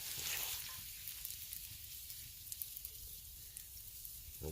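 Steaks and onions sizzle and fry in a skillet heavy with Crisco on a winter tarp camping trip, a steady close crackle with small pops throughout, with no talking.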